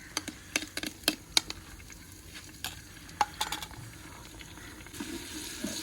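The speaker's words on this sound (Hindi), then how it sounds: "तकरीबन 5 मिनट इसे भूनेंगे, उसके बाद दूसरे मसाले डालेंगे इंशाल्लाह।" Garlic and ginger paste fries in a pan for dhaba-style chana dal, giving a faint, soft sizzle broken by scattered scraping and clicking stirs close by.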